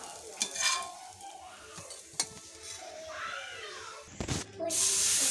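A pumpkin and raw rice dosa sizzles and hisses on a hot pan with intermittent scraping and metal utensil clinks, ending in a loud burst of frying noise.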